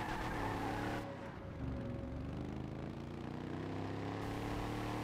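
Vapid Slam van driving in GTA 5 Online, its engine droning loudly and steadily with shifting pitch and a brief dip as the revs change, close up and without voices.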